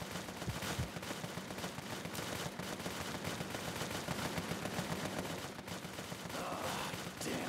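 Continuous suppressing gunfire in the Daniel Jackson Boss Campaign video game, a dense rattling stream of rapid shots that never lets up across the whole stretch, with heavier bursts mixed in.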